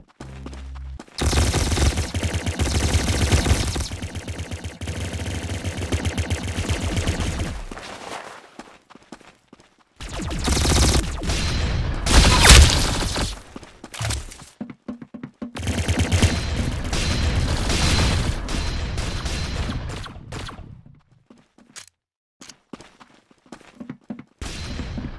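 Rapid automatic gunfire in the Roblox game Arsenal, long dense bursts lasting several seconds each, separated by short quiet gaps, loud and up front with no talking.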